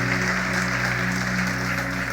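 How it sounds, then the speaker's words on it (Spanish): Church congregation applauding during a Spanish-language sermon, a dense steady clapping wash over a sustained low hum, lasting about two seconds. "Dale un aplauso al Señor si tú lo crees."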